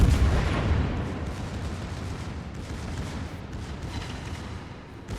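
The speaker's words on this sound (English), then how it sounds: "my secondaries are going off on the airfield" Scharnhorst battleship's secondary guns fire continuously in World of Warships, a dense rumbling barrage of booms that is loudest at the start, with no voices.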